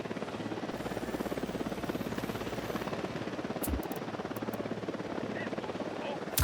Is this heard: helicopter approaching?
yes